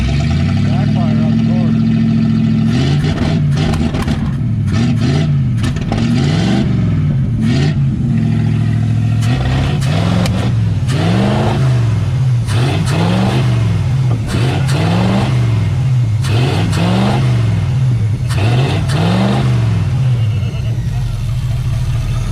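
A Chevrolet Camaro with a 305 engine, started for the first time in six years, idles roughly and is revved again and again in loud, close surges that rise and fall, with people talking over it.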